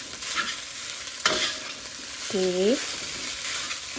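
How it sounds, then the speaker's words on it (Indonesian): Fried rice made with plenty of cooked white rice and spices being stirred in a frying pan, with soft scraping and a low sizzle; a short word is spoken and a brief tonal squeak sounds midway. "ini kita aduk-aduk dulu sampai bumbunya merata ya"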